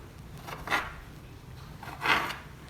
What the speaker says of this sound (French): avec un découpe pizza ou quelque chose, découpez le milieu